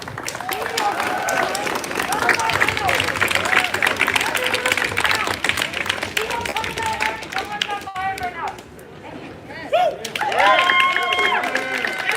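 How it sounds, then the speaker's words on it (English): A crowd at a street march in Seattle claps and cheers for itself after blocking a freeway, the applause building loud and close and lasting for several seconds, with whistles and voices mixed through it. "Give a round of applause for yourself."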